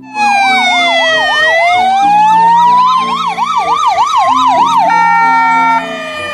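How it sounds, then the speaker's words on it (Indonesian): A toy ambulance's loud electronic siren wails, switching between warbling and steady tones with a clattering rattle underneath, then cuts off near the end. "Mobil ambulan."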